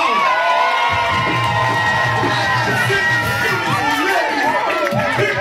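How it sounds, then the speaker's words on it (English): Crowd at a comedy show during a family reunion in Turin cheers, whoops and yells loudly, with excited children's voices and shouting layered throughout, continuous and close. "make some noise and clap for yourself"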